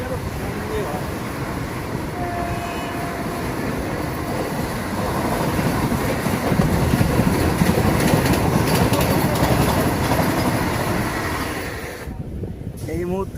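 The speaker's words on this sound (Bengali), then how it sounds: "এই মুহূর্তে চলে গেল আমাদের সঙ্গে বন্দে ভারত" A Vande Bharat express train rushes past close by, a dense broadband roar swelling midway and holding for several seconds before cutting off abruptly near the end, heard from aboard a moving local train.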